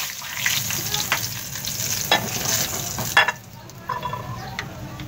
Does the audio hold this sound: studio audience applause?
no